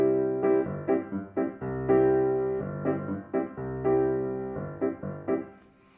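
Piano playing a Latin bossa nova rhythm pattern: syncopated chords in short repeated phrases with clear accents and rests, loud and close, alone with no talking.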